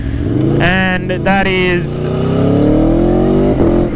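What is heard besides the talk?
Aprilia Tuono 1100 Factory V4 motorcycle quick shifter and blipper shifts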